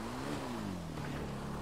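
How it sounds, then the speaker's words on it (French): A motocross bike in a GTA 5 game revs hard with a buzzing, rising and falling engine note, loud and continuous across the short stretch, with no voices over it. "C'est vraiment une moto de cross,"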